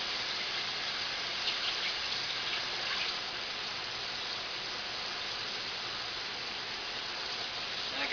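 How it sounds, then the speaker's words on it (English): Running tap water in a kitchen sink while a utensil floury from bread dough is washed, a soft steady gushing hiss with faint splashy variations, continuous and fairly quiet. "Wash it and put it in water because the flour is hard to come out."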